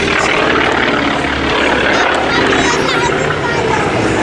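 Military aircraft at the Wings Over Illawarra airshow, a loud, steady engine and propeller roar filling the whole stretch, with a commentator talking over it.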